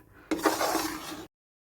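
Spoon scraping and stirring besan flour dry-roasting in a pan over low heat for laddoos, a short burst of close scraping and clinks lasting about a second, then silence.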